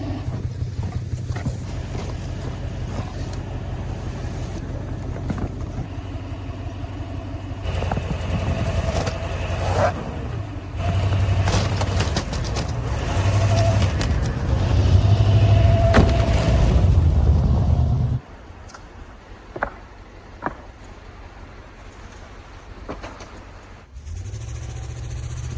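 A converted delivery truck in heavy snow drives up onto wood, its engine giving a steady low rumble that swells, then drops away, leaving a few faint knocks and quieter background.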